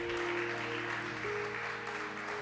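Church congregation applauding the Lord during a sermon, steady clapping blended with sustained organ or keyboard tones that shift pitch midway.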